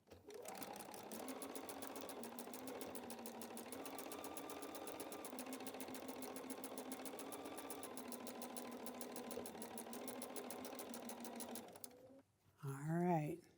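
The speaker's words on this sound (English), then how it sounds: "let's go sew this at the machine and see how we did" A sewing machine stitching a quilted wall hanging runs steadily with a fast, even whirring and needle rhythm for about twelve seconds, then stops before a short burst of talk.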